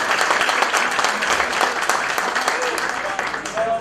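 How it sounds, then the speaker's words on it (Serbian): An audience at a folk festival in Nikšić breaks into loud, dense applause for a performer, sustained evenly throughout with a faint voice underneath. "Zaista velik aplauz, molim vas."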